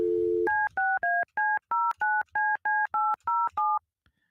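A steady telephone dial tone cuts off into a quick run of about a dozen evenly spaced touch-tone dialing beeps, loud and clear with no talk.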